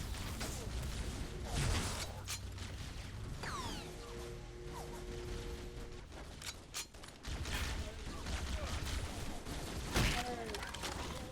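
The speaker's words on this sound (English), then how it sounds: "they don't know we're here until we open fire on them" Gunfire crackles in Halo: CE Anniversary against Covenant and Marines, repeated shots and mechanical clatter with brief sweeping sci-fi weapon sounds, dense and continuous, with some faint voices.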